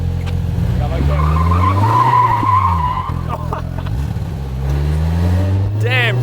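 A car revs hard as one wheel breaks loose and spins, a long tire screech rising and falling over roaring engine drone, close and loud, with voices talking inside the car.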